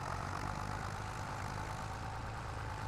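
A tractor engine pulling a planter across hilly farmland in Farming Simulator 25 drones as a constant low, heavy rumble, steady and fairly faint, with no speech.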